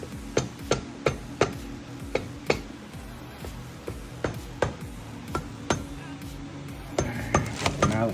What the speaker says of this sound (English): And a rubber mallet, which is over there. So you're seating it in place.